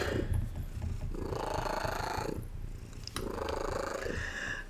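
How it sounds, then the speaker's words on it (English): A cat purrs steadily up close, its soft rumbling purr broken by a brief pause and rising into a trilling purr, with no talking. "this little tiny bit of ASMR with the pretty trill purr"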